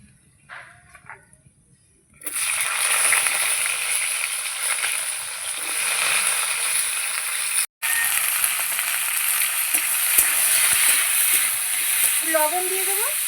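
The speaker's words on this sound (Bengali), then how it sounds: "সিমটা ভেজে নেব।" Flat beans frying in hot oil in a wok, a steady, loud, close sizzle that bursts in after a couple of quiet seconds and runs on with one brief cut.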